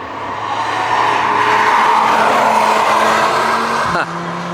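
A Mercedes SL63 drives past on a racing circuit, its engine note rising and sustained, then cutting off sharply near the end, with faint tire noise.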